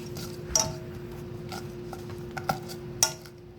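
Boiled potatoes with buttermilk being mashed in a pot, a few sharp metallic clinks and scrapes of the masher spaced irregularly over quiet background hum.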